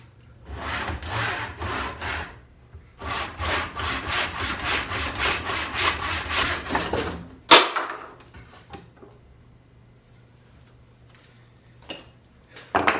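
A hand saw cuts wood in a slightly misaligned miter box while shaping sideboard legs: two runs of steady, rhythmic back-and-forth rasping strokes, close and clear, ending in a sharp snap, then near silence with a few faint knocks.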